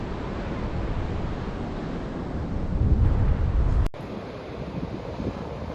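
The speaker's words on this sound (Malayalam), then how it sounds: "നിങ്ങൾക്ക് കേൾക്കുന്നുണ്ടോ ഈ കാറ്റുകൾ?" Strong wind buffets the microphone by the sea near a lighthouse in Lakshadweep, a steady roar with surf beneath, swelling louder for a moment before easing back.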